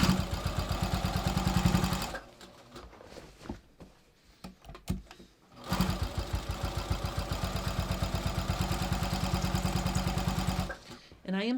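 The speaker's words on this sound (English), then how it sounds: "And I am sewing just to the right side of the original top stitching." A sewing machine stitches jeans beside the original topstitching, running in a fast, even mechanical rhythm up close, breaking off into a quieter pause of small handling sounds before resuming at full speed and stopping near the end.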